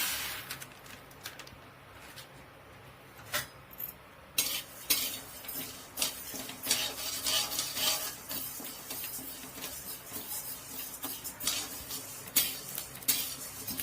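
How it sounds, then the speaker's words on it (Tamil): Red rice dry roasting in a pan, stirred with a spoon that scrapes and clinks against the metal in irregular bursts, with a faint crackle of grains beneath, close and moderately loud without any talk. "அரிசி இந்த மாதிரி பொரிய ஆரம்பிக்கும். நல்லா பொரியட்டும்."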